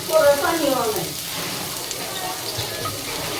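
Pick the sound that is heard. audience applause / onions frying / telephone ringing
onions frying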